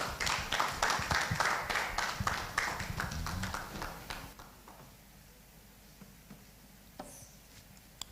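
Conference audience applauding a speaker at an ICT growth conference and awards event, brisk clapping that fades after a few seconds into room tone with faint movement.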